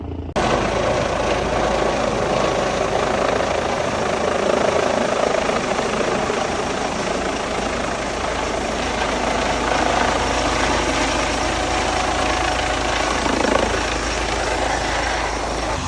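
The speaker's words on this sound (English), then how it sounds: "this is the helicopter that just landed" A helicopter that has just touched down on a helipad at an event keeps running with a loud, steady engine and rotor roar that fills the whole stretch without letting up.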